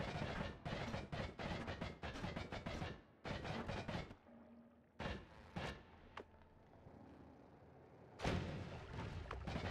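Rapid clusters of sharp, crackling explosions from a spell bombardment in Noita, coming in quick bursts separated by short lulls, with a final dense barrage at the end.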